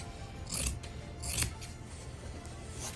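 Scissors cutting fabric for a small sewn wallet, with two or three crisp, close snips against a quiet background.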